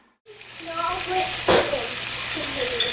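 Farm ham and eggs frying in a pan for breakfast, a loud continuous sizzle and crackle up close, with a brief clatter partway and voices talking over it.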